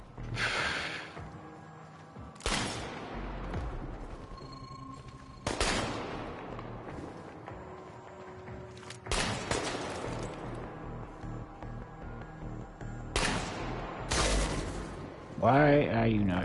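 Bursts of gunfire in the game Chernobylite, several loud broadband volleys spaced a few seconds apart with a rapid burst near the end, mixed with game noise and occasional voices.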